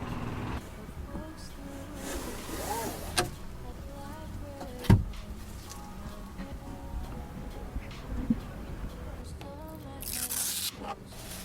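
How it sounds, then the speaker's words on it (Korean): Protective vinyl film is peeled and crinkled off the interior of a new 2022 Kia Seltos, making soft rustling and ripping sounds with scattered clicks and a sharp crackle, close to the microphone. "일단 비닐부터 한번 뜯어볼게요"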